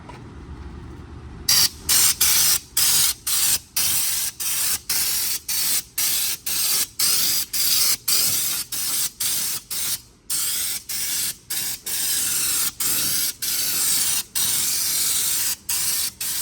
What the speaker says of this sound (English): you get a different texture with the spray gun